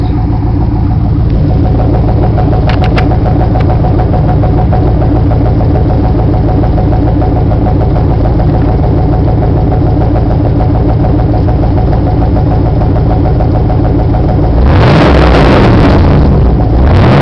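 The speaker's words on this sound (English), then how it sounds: "I'll rev it up a little bit so you can hear the exhaust." A 1996 Chevrolet Camaro Z28 with a six-speed manual idles steadily through its exhaust for a long, loud stretch, then the engine revs sharply near the end and settles back.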